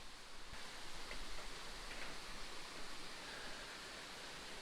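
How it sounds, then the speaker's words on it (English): A waterfall pours down beneath a small suspension bridge on a gorge trail, a soft, steady wash of rushing water heard from some distance, faint and continuous with no voices. "Look at those falls."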